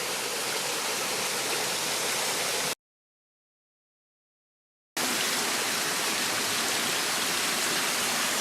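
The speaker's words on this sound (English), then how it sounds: "A bit of a waterfall and this little cave." A waterfall pours beside a small cave, giving a loud, steady, broadband rush of falling water that cuts to silence for about two seconds midway before resuming.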